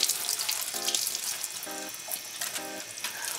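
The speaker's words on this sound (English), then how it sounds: "And we're just gonna wash it out." Water runs steadily from a tap while a gutted fish is rinsed out after a winter catch, a close, continuous splashing rush with a few brief tonal squeaks and no talking.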